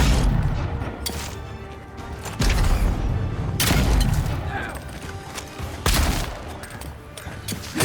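Pistol shots ring out in the fantasy video game Avowed, a handful of heavy, booming blasts several seconds apart, each with a short rumbling tail, alongside lighter mechanical clicks and a voice talking.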